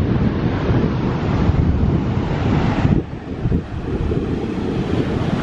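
Strong wind blowing outdoors near a bridge in Egilsstaðir, Iceland, a continuous heavy rush buffeting the microphone with a brief lull partway through.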